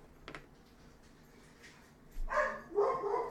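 Two or more dogs break into a loud burst of barking nearby, two quick rounds of barks close together after a quiet stretch, with no talking.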